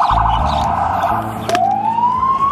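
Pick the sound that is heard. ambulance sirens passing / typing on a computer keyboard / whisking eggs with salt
ambulance sirens passing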